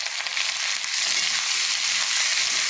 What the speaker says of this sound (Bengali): এবারে আমি পেঁয়াজটা কাঁচা লঙ্কাটা দিই।